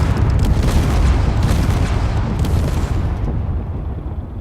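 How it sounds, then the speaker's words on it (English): Dense, continuous rumbling explosions in the game Space Engineers, with heavy low booms and crackling bursts, loud and sustained, easing slightly toward the end. "you can see the explosions are still happening over there"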